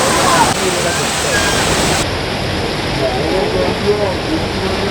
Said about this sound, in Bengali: এই মায়াবী ঝর্ণা থেকে এখন নেমে যাচ্ছি